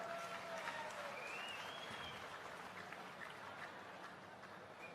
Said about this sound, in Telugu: ఈ చప్పట్లు ప్రేమను పంచాయి